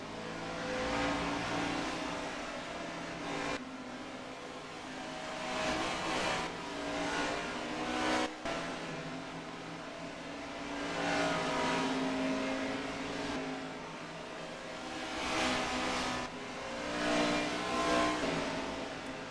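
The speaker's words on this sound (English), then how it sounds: "So it's Fame and Fame and Montana right now going for the lead" Race cars battle for the lead in the Food City 500, filling the clip with a continuous loud engine roar. The roar swells and fades in waves as the cars pass, with no talk over it.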